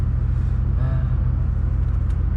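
A Porsche 992 Carrera 4S engine drones with a deep, steady rumble while driving, heard from inside the cabin with a low pulsing throb and no talking.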